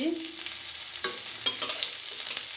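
Chopped onions fry in hot oil with cumin seeds for homemade pasta, a close, steady crackling sizzle broken by a few sharp stirring scrapes, with no talking.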